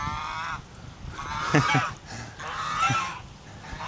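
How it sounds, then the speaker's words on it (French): Two angry geese at a farm honk loudly and repeatedly, harsh nasal calls overlapping in bursts, close by. "Ici, il y a 2 oies."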